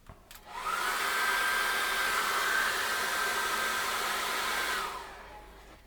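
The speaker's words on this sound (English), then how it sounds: "And then dry that off with a hairdryer." A hairdryer blows over wet acrylic paint on a seascape canvas, switching on with a click into a steady, close whirring hum with a high whine, holding for several seconds before cutting off.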